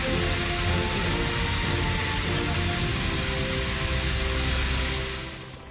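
Rain falls in a children's cartoon about a fire safety lesson, a steady loud hiss of downpour that holds evenly throughout and fades slightly at the very end.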